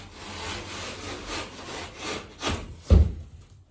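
A blade drags across drywall in scraping strokes while scoring it in a cabin loft, ending in a sharper, louder crack-like scrape near the end, close and fairly quiet.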